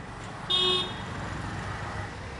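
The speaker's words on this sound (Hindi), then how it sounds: "ट्रैफिक का आवाज़ रिकॉर्ड" Road traffic in India hums along steadily while a single car horn gives one short, clear toot partway through. Engine and road noise continue underneath, and no one speaks.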